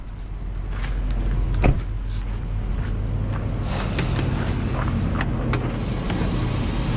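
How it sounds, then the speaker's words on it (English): A 2004 Chevrolet Silverado pickup's engine idles quietly with a low, steady rumble throughout, with faint clicks and a brief knock near the start; no voices. "That motor is running, by the way."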